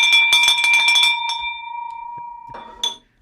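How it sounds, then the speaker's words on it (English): A handheld bell rings in a quick run of bright strikes, then one clear tone lingers and fades, followed by a softer final ring, close and loud with no talk. "I think, Matt, I'm going to break this bell a lot faster."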